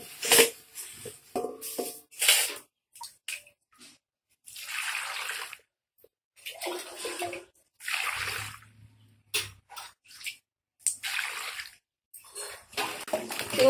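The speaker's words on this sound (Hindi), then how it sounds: "तो सबसे पहले मैं सिंघाड़े को धो लेती हूँ।" Water chestnuts are washed by hand in water in a home kitchen, with repeated bursts of splashing and sloshing separated by short pauses.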